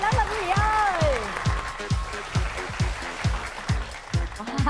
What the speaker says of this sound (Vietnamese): vỗ tay lớn lên quý vị ơi.